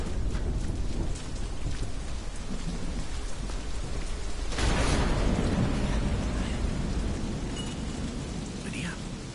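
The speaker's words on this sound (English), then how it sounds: "Storm." Heavy, steady rain pours in a thunderstorm in the video game Deadlight, and a loud rumble of thunder breaks through midway before fading under the continuing downpour.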